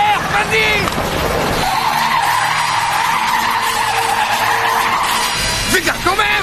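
A car accelerates hard with loud, sustained tire squeal and skidding close by, the engine roaring under it as a voice shouts briefly at the start and end.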